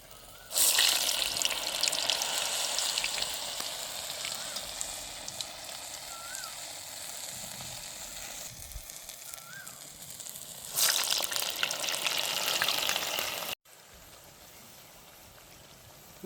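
Urad dal vadas frying in hot oil in a village kitchen, a steady loud sizzle and bubbling that surges louder twice, then drops abruptly to a quieter hiss.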